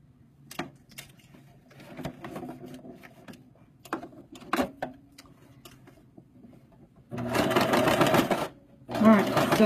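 A sewing machine runs in two loud bursts of fast mechanical stitching near the end, after scattered clicks and handling taps, with a voice speaking softly in the background.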